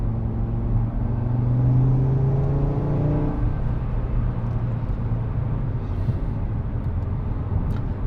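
A 2018 Audi RS3 Quattro accelerating, its engine revving with a rising drone that climbs, drops at a gear change and then builds again as a steady close rumble.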